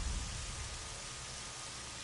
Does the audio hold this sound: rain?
yes